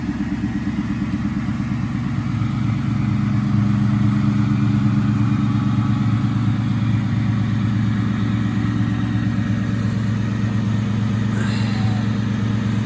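A Ford Mustang Bullitt's engine runs steadily at a low rumbling idle as the car pulls out of a garage, a loud, continuous near sound throughout with no talking.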